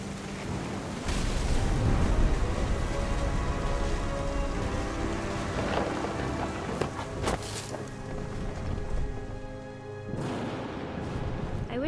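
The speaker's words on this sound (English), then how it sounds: "The thunder sounded much too close and full of angry power" Steady rain with low rumbling thunder in the video game What Remains of Edith Finch, a dense continuous downpour with deep rolling booms underneath, no voices.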